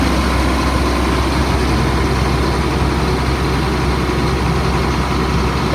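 A 2004 Blue Bird All American 72-passenger school bus sits with its diesel engine idling, a loud, steady low rumble that holds even and unbroken from start to finish with no talk over it.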